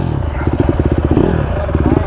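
A 2024 Honda CRF250F dirt bike engine revs hard up close in the desert heat, with a throaty pulsing rumble that surges and dips under the rider's throttle.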